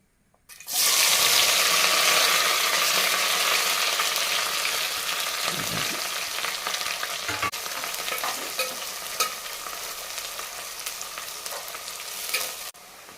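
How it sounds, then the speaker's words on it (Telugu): Onions, green chillies and a handful of mint hit hot oil with a loud, steady sizzle that keeps going for over ten seconds, with occasional stirring scrapes and no talk, while mutton fry is being made Telangana style. "ఈ ఆనియన్ అనేది మనకు మంచిగా బ్రౌన్ కలర్కి వచ్చేంత వరకు వీటిని మనం ఫ్రై చేసుకోవాలండి"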